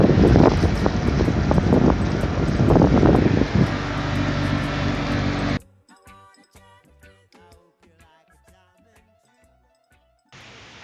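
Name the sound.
strong wind on deck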